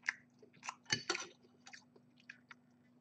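Someone eats Thai noodles with crunchy vegetables, pork, beef and fish cake, producing a few soft, close crunches and wet chewing sounds, quiet and irregular, over a faint steady hum.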